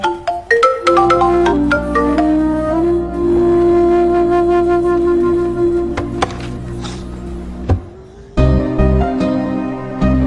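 A loud melodic phone ringtone plays close up in a Hindi-dubbed action film scene, a chiming tune that repeats, cuts out briefly, then starts again.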